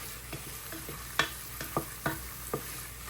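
Ground turmeric toasting in a pan for Guyanese dal, with a spoon scraping and clinking in several distinct strokes over a soft, steady sizzle.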